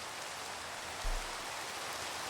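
Steady rain in the Minecraft video game, a constant dense hiss that stays even throughout with one brief soft thump and no voices.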